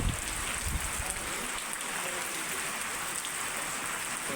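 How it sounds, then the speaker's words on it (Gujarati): Rain falling harder again over a village, a steady broad hiss of drops on surfaces, close and even, with a slightly louder rush at the start and no clear speech. "જો વરસાદ પાછો વધી ગયો છે, હજી એકદમ આવે છે હો."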